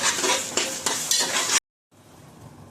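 Masala with turmeric and Kashmiri chilli powder being stirred in a hot pan for prawn biryani, loud sizzling with repeated scraping strokes of a spoon, then an abrupt cut to near silence and faint low background.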